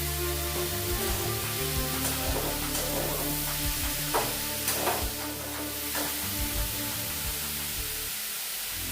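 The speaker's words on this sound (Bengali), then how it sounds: "হলুদ গুঁড়ো, দিয়ে এই ছাতুটা আলুর সাথে একটু ভালো করে ভেজে নেব।" Oyster mushrooms and potatoes fry in oil with turmeric powder, producing a dense, loud, continuous sizzle with occasional stirring scrapes, close and steady throughout.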